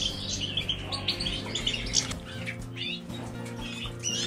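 Caged goldfinches and canaries chirp and tweet in quick, overlapping bursts, bright close calls over a steady low background hum, with occasional wing flutters.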